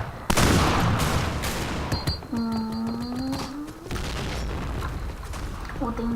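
Gunfire in the video game Point Blank: loud booming shots and rapid bursts come one after another, mixed with electronic game tones.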